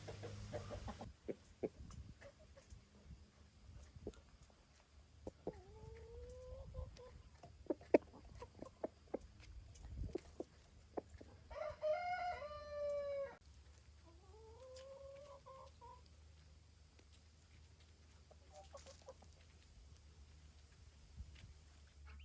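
Chickens on a farm, softly clucking and chortling at close range over a quiet background, with several drawn-out calls and a brief rooster-like crow in the middle, scattered small taps and knocks throughout.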